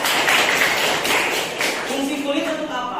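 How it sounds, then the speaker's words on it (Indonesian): A classroom of pupils gives a short burst of clapping for a classmate during a lesson in an Indonesian school, brisk and fairly close, fading as a teacher begins speaking. "Tepuk tangan buat Rika."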